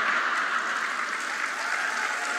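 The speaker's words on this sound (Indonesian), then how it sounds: "Nggak usah tepuk tangan." Steady, dense applause from a crowd, continuous and fairly loud throughout with no voices standing out.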